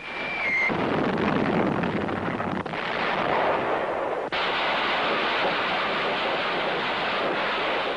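Heavy artillery and gunfire roar in a World War II Pacific battle as Marines advance against a dug-in enemy, a dense, continuous rumbling barrage with no pauses, loud throughout and with no voices.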